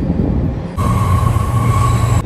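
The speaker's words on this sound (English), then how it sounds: "We're just waiting for the train." A train pulls into a station on a trip to Yorkdale Mall, with a loud, close rumble and a steady high wheel squeal that starts partway through and holds, with no voices.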